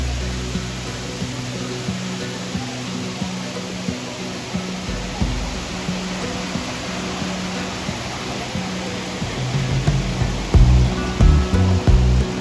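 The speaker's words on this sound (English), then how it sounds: "I took a quick break at the waterfalls located right close to the road." A roadside waterfall on a ghat road on the way to Goa, heard as a steady, dense rush of falling water. The roar runs without a break, and some low rumbling swells near the end.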